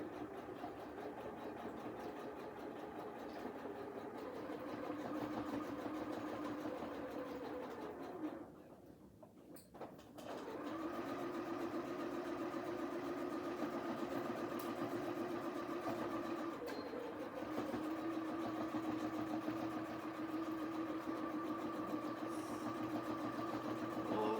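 A sewing machine hums steadily while stitching a pillow cover, running continuously at moderate volume with a brief pause in the middle before resuming.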